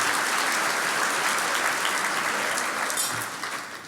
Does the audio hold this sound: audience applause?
yes